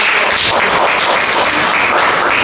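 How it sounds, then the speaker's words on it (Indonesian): A room full of people applauding a group in a classroom presentation session, steady dense clapping that fills the short moment at close range, with no talking over it. "kita berikan aplaus kepada"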